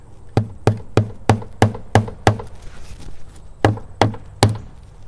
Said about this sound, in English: So we just start nailing them in.